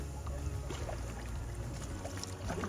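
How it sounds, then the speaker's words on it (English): Trawler boat in Whitby harbour, a steady low engine rumble close by with wind and water noise over it, no talk. "Love a trawler boat."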